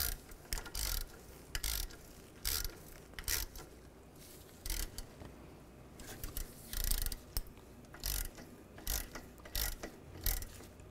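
A hand ratchet tightens the bolt on an oil filter housing of a 2011-2015 Chevy Cruze, making a steady series of quick clicking strokes up close that repeat throughout without talk.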